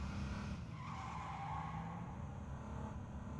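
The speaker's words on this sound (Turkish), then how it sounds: "Zaten araba çalışıyor şu an." A car engine runs in the video game H1Z1, a steady low rumble with a faint tire squeal, heard close and without talk.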